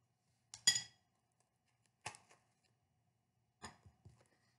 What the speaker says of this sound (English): just stir your baking soda, your toothpaste, and your petroleum jelly